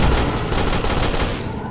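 Gunfire in the ZIC Zombies in City video game: a loud, continuous burst of rapid shots with heavy low-end booms that runs the whole clip without pause.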